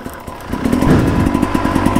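A Sherco 300 enduro motorcycle engine runs close by, a rapid pulsing two-stroke buzz that swells loud and stays steady with throttle blips.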